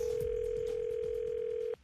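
A steady telephone dial tone hums without a break for almost two seconds, then cuts off abruptly as a prank phone call begins.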